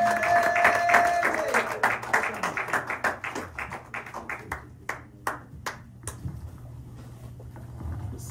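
A church congregation at a Sunday worship service in Sherbrooke, Canada, breaks into applause, with many hands clapping together at first before it thins into separate claps that fade out. A voice is heard briefly near the start.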